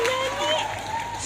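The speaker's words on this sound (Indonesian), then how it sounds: "Berikan tepuk tangan yang meriah." Audience at a provincial Islamic text recitation competition final breaks into brief applause, a soft wash of clapping under a sustained tonal voice or hum.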